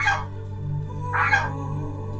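Geese honk twice from outside a slightly open window as they walk across a yard, with loud nasal calls heard over a steady low hum.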